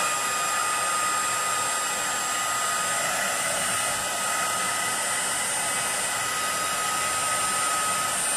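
Hair dryer blowing steadily at close range to dry varnish on paper butterflies, a constant loud whooshing roar with no pauses and no talking.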